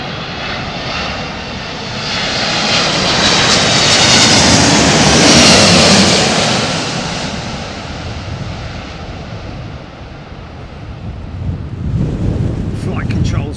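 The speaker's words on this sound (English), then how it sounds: "Another United 777-2. This one with the Pratt & Whitneys," A United Boeing 777-200 with Pratt & Whitney jet engines lands in gusty crosswinds, its loud roar swelling as it passes close overhead, then fading into a wide wash of engine noise and wind buffeting the microphone.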